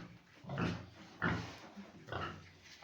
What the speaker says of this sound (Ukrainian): Дві свині тут